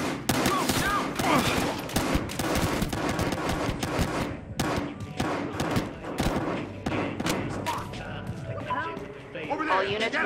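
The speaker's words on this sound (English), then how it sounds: "All units, multiple shots fired at the location." Heavy gunfire in the Battlefield Hardline video game campaign, rapid automatic bursts and single loud shots, close and continuous, with voices shouting over the firefight.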